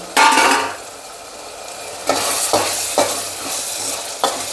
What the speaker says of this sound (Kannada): ಈಗ ಹೆಚ್ಚಿಟ್ಕೊಂಡಿದ್ದಂಥ ಟೊಮ್ಯಾಟೊ ಹಾಕ್ಕೊತಾ ಇದ್ದೀನಿ ಈ ಟೊಮ್ಯಾಟೊ ಜೊತೆಗೆ ರುಚಿಗೆ ತಕ್ಕಷ್ಟು ಉಪ್ಪು ಅಡಿಗೆ ಅರಿಶಿನ ಎರಡನ್ನು ಹಾಕಿ ಮಿಕ್ಸ್ ಮಾಡಿಕೊಂಡು